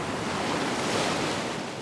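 Big ocean waves break on an Australian beach in a steady, loud roar of churning surf with wind buffeting the microphone and no voices.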